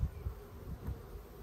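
Honeybees buzzing at an open hive in late summer, a faint, steady, close drone with slight pulsing and no talk.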